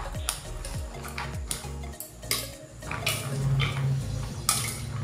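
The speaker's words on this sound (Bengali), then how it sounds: "এখন একটা চামচ দিয়ে এই বাটারটা এই ভুট্টার সঙ্গে খুব ভালোভাবে মিশিয়ে নিতে হবে" A spoon stirs butter through boiled corn kernels for masala corn, giving a run of quick, irregular clinks and taps against the bowl with soft wet squelches between them. The sound is close and continuous, with no voices.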